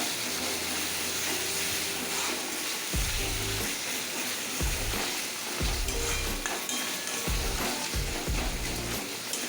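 Cabbage sautéed with turmeric and salt in a pan, a loud continuous sizzle with repeated low scraping stirs and occasional utensil clinks, no talking.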